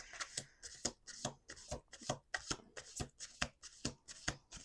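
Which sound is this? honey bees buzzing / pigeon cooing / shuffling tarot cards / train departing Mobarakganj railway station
shuffling tarot cards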